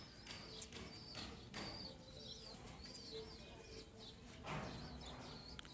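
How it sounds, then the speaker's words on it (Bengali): Pigeons on a rooftop coo softly amid sharp bird chirps and faint voices, a steady outdoor murmur with a slightly louder burst near the end. "আর এখানে কিছু কবুতর আছে"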